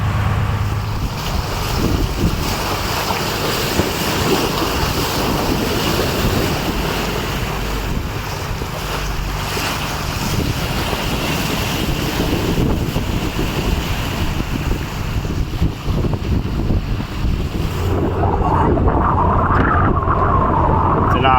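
A fishing boat heads back toward Satpati harbour on the open sea, with a steady, loud roar of engine, waves and wind buffeting the microphone throughout.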